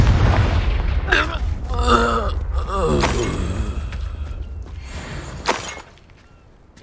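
Confringo fire spell blasting in the Hogwarts Legacy video game, a burst of booming, crackling impacts over layered game sound effects, loud and close, with a sharp hit near the end before the sound drops away.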